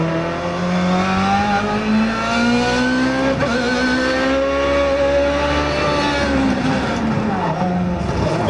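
An IndyCar engine in the iRacing game screams at high revs, pitch climbing and easing steadily through gear shifts, loud and continuous throughout.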